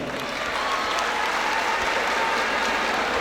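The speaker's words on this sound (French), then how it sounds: "Premier lauréat pour la section d'informatique. Il faut applaudir." Sustained applause from a graduation audience honouring the first-place laureate of the computer science section, a steady dense clapping that fills the whole stretch without pause.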